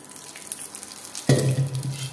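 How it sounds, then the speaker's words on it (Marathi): A quiet background gives way to an abrupt, loud sizzle as vermicelli goes into a little hot oil in a pan, then a steady frying hiss continues. "थोडासा तेल टाकून घेते"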